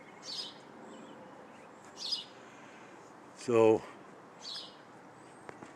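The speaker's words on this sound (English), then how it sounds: "these sparrows are something else" Sparrows chirp outdoors in bursts, a few brief calls spread across the stretch over a steady background hiss, with one louder, nearer burst midway; a voice briefly speaks.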